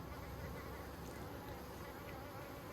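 Honey bees buzz in a dense, continuous drone at an open hive during a nuc check, a close, steady hum with no talking.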